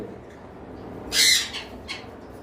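Cockatiels in an aviary give a short, bright squawking call, then a fainter second chirp, heard fairly close against quiet background noise.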